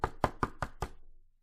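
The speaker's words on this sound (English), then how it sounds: "They knocked again, making the close sign on the inside of the door bounce and sway." Five quick, evenly spaced knocks on a shop door, fairly close and firm, followed by a short fading tail.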